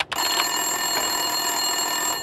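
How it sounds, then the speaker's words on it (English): An office desk telephone rings in the video game Max Payne 2, a steady electronic ring sustained through the whole stretch at moderate, even loudness, with no voices. "Winterson's phone was ringing."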